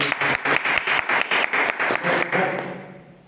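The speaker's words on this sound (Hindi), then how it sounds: "एक जोरदार तालियां।" A crowd at a closing session claps loudly in unison, a fast, even rhythm of sharp beats that holds steady before tapering off and fading out.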